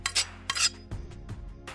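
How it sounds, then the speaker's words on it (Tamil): A metal spoon stirs rice cooked in milk in a pan, giving close, bright clinks against the vessel, followed by softer scraping and thudding strokes, with no voices. "இந்த பாலில் வேக வச்ச அந்த ரைஸை நம்ம மிக்ஸ் பண்ணுறோம்"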